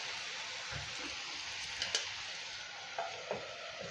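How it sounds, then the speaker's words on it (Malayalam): Beans and potatoes cook slowly in a covered pan over low heat for a Kerala-style mezhukkupuratti, giving a soft steady sizzle with a few light clinks and stirring sounds, no voices. "ബീൻസും പൊട്ടറ്റോയും വെന്തുകൊണ്ടിരിക്കുന്നു"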